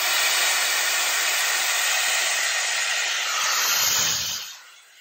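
Shark FlexStyle hair dryer blowing air in a loud, steady close-up whoosh that runs for several seconds, then winds down quickly and cuts off near the end.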